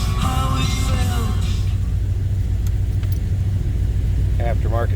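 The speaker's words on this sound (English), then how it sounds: "that was a cold start" A 1971 Chevrolet Monte Carlo engine idling after a cold start, a steady low rumble throughout, with someone talking over it.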